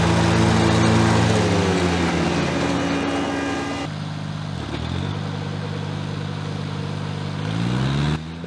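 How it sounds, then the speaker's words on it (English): A Kubota G1800-S mower runs close and loud while mowing a steep roadside bank, its engine droning steadily with pitch dips and clattering blade noise as it works the slope. "you can see we're mowing the side of the road bank"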